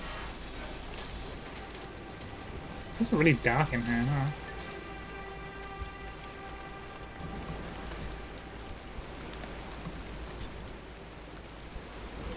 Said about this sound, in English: this is some real driving rain, which is extremely good sound